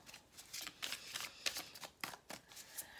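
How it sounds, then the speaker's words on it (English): Tarot cards shuffled in quick, soft riffling bursts, close and quiet, repeating in an uneven rhythm with no talking. "A little bit more shuffling on camera before we start."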